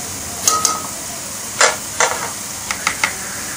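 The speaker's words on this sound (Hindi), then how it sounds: "अब 200 ग्राम कटी हुई प्याज इसमें शामिल करेंगे। इसको हल्का सा ब्राउन करेंगे।" Chopped onion, about 200 grams, fries and browns in a pot for chicken balti gosht, with a steady hiss broken by several short spoon knocks and scrapes.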